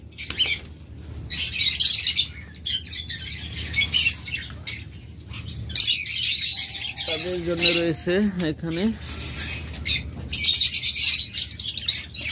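Caged budgerigars with newly hatched chicks squawk and chirp in shrill bursts, with a flutter of wings near the middle, while someone speaks at intervals.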